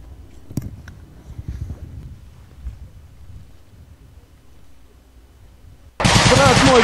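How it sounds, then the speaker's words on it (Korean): Machine gun fire in trench warfare between Ukrainian and Russian forces, a few sharp bursts early on fading into distant rumble, then an abrupt loud burst of dense crackling noise at the end. "우크라이나 군은 참호에 기관총을 배치하여 러시아 군의 진격에 대비하고 있습니다."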